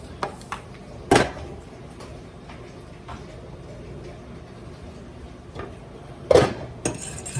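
Spices and salt stirred into vegan taco filling, a few sharp clinks and scrapes of a utensil against a pan at moments, separated by quiet kitchen background.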